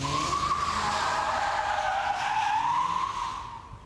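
A Mercedes-Benz CL spins through donuts with a continuous, loud tire squeal that wavers in pitch over engine noise, then begins to fade in the last moment.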